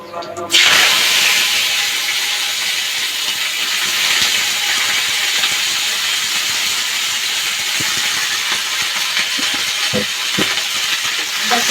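Potatoes, pointed gourd and beans hit hot oil in a pan for a fish curry, bursting into a loud, sustained sizzle after a brief clatter, with occasional stirring knocks and a voice talking over it.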